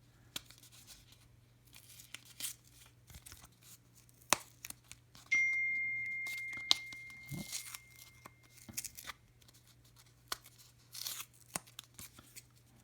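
Orange tape peeled off a Topps Gold Label trading card in a few short tearing bursts, with one longer steady rip midway, close and fairly quiet over a low steady hum.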